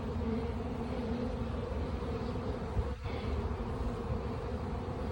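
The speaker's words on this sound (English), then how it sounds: "lots of the bees, it looks like they're coming in and out, but they are just crowded around that entrance" Honey bees crowded around a hive entrance make a thick, continuous droning buzz, close and even, with a brief dip midway and no speech.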